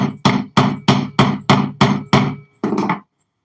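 A hammer strikes an aluminum rod to ram firework powder, with about nine loud, evenly spaced medium whacks close by, each ringing briefly before the next.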